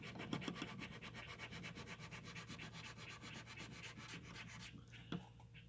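Kitchen knives are drawn across sandpaper in quick, even rasping strokes, a faint continuous scratchy rhythm with a sharper scrape near the end.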